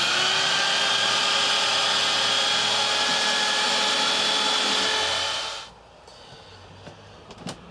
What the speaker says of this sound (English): drilling the guide holes here